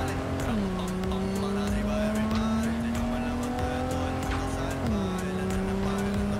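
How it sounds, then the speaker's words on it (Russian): A powerful car engine in Cyberpunk 2077 roars steadily with gear shifts and tire squeal while drifting, close and loud, as someone talks over it. "Но звучит тачка мощно."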